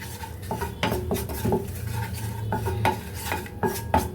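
A spoon scrapes and clinks against a metal pan while Kashmiri chilli powder is stirred into sautéed greens, giving irregular sharp metallic knocks over a low, faint sizzle, close by, with no talking.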